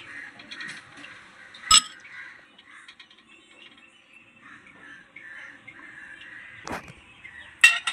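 Metal utensils clink against a bowl as rasgullas are lifted out of the pot after the gas is turned off. Sharp, sparse clinks and scrapes sound close by, with a couple of louder knocks and soft talk underneath.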